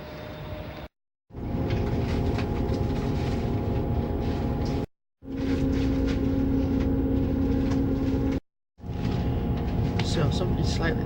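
Train ride heard from inside a carriage on a route toward Bradford, with a steady loud rumble of wheels and motion, a sustained whining tone, and brief silent cuts between segments.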